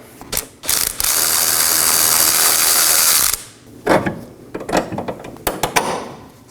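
A ratchet wrench removes a bolt from a rear CV axle on a 2018–2024 Chevrolet Equinox 1.5L. Opening clicks give way to a long continuous buzzing ratchet run of about two seconds, then scattered sharp clicks and metallic clunks up close.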